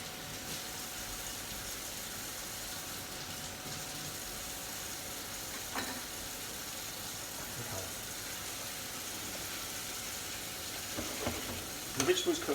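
Diced leek and potato vegetables cooking in a pan for soup, a soft steady sizzle running throughout, fairly faint, with a few small clinks near the end and no talk.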